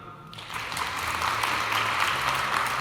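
Conference crowd at a keynote responds to a poll with a broad round of clapping, a steady dense patter from many people that swells in quickly and stays even, with no voices.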